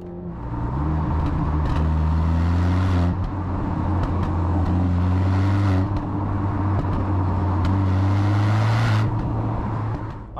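Mercedes-AMG SL43 four-cylinder engine heard from the cabin during downshifts, loud and close, with the engine note jumping up in pitch at each shift and then settling into a steady drone.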